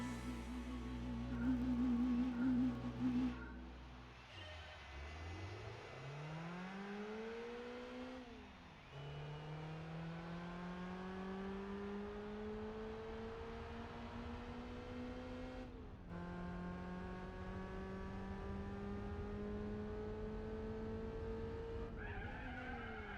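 Race car in Gran Turismo braking and downshifting into a turn, engine pitch dropping and climbing in repeated sweeps with tire skid noise, loud and close, no talk.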